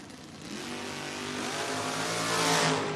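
A Chevrolet Chevelle drag car launches down the strip at a drag racing event, its engine roaring loud and rising steadily in pitch as it accelerates, with a harsh broadband blast that swells toward the end.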